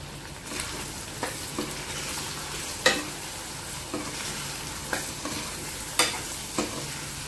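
Turmeric, chili powder and salt masala stirred in a hot pan, a steady close sizzle with a spoon scraping the pan every second or so, alone with no voices.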